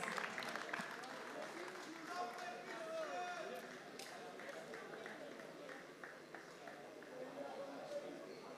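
An indoor crowd at the Polish Indoor Car Championship gives the best teams a steady round of applause, a dense, distant clapping that carries on throughout beneath an announcer's voice.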